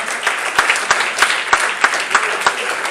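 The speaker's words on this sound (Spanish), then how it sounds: "Denle un aplauso al Señor." Applause in a church after a prayer, a steady wash of many hands with distinct sharper claps standing out in a loose rhythm, fairly close and without talk over it.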